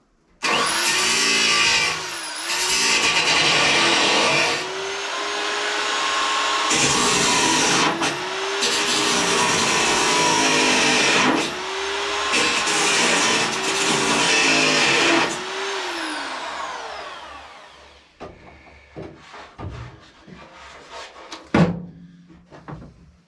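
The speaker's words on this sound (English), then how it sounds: "I'm going to grind it a bit thinner if it'll just punch through." Angle grinder biting into the steel wing of a Ford Escort Cosworth, loud and close in several long whining bursts with short pauses, followed by quieter clanks and knocks.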